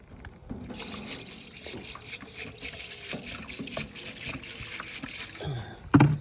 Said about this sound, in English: And I add some water